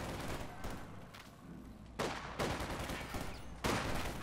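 Machine gun fire in Company of Heroes 2 during a World War II battle, with sustained rattling bursts and several heavier gunshots breaking in, fairly distant and dense.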